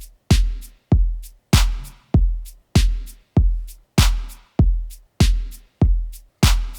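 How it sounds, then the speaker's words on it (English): Chill dance beat where a shaker ticks on each upbeat between heavy, evenly spaced kick hits, keeping a steady, loud groove with no voices. "I decided to add a shaker instead, and I added it on the upbeat"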